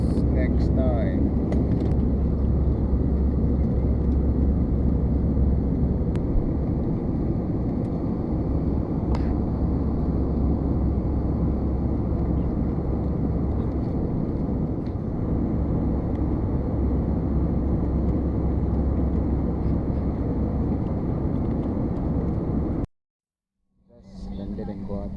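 Steady, loud airplane cabin drone during a flight to Guwahati, a constant low roar with a faint whine above it, holding for most of the stretch before cutting out abruptly near the end.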